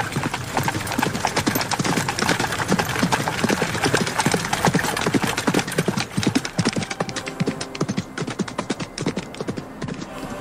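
Hooves of several ridden horses clip-clop steadily along, a dense, loud, continuous patter of overlapping close hoof strikes throughout.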